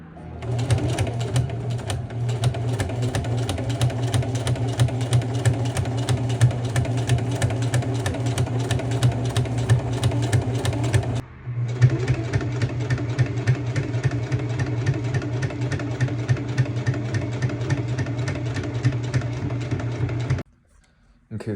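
A sewing machine runs in long continuous bursts, stitching through painted denim jeans, with a rapid even mechanical chatter that pauses briefly around the middle and stops near the end.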